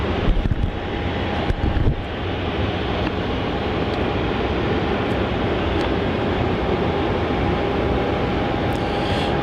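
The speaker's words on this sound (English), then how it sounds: "our next arrival on runway 16 is JQ505 arriving in from Sydney" Jetstar flight JQ505 from Sydney lands on runway 16 at Melbourne Airport on a foggy morning, a steady broad jet roar that holds loud and continuous throughout, with no voices.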